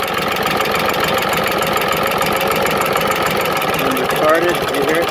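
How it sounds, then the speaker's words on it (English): A 1942 civilian Harley-Davidson Knucklehead motorcycle engine idles steadily and loudly, its rapid rhythmic firing rising slightly as the ignition timing is advanced, with a brief higher surge near the end. "You hear the motor pick up."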